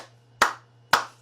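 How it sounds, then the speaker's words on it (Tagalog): Two sharp hand claps about half a second apart, close and clear, each ringing briefly before fading, over a faint low steady hum. "Bakit ako pumapalakpak?"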